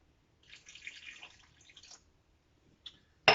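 Unsweetened almond milk is poured into a mixing bowl for a flatbread dough, making a soft, trickling liquid sound that lasts about a second and a half. A few faint drips and a sharp tap follow at the end.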